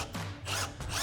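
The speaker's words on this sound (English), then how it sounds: "So now I'm gonna take an 18mm socket on an impact gun to remove our nut" Impact gun with an 18mm socket removing a strut nut on a 2019-2024 Silverado 1500 during a lift kit install, giving two short close rattling bursts separated by a brief pause.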